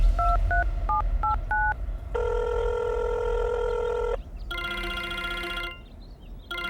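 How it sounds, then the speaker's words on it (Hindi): Telephone keypad dialing in a horror story: a quick run of DTMF beeps, then a long sustained ringback tone and a second buzzing ring tone, loud and clear with no voices. "उसने अपना फोन उठाया और अर्जुन को कॉल करने लगी।"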